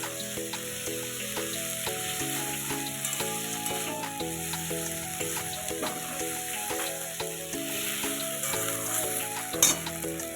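Ground spice paste, stone-milled on a grinding slab, fries in a pan for a jackfruit curry, giving a steady close sizzle and crackle, with some repeating tonal sounds running along underneath.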